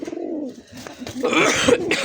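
Pigeons coo at a pigeon sale offering fancy breeds such as giribaz and kaldom, with a low, soft cooing near the start followed by busier rustling and bird calls close by.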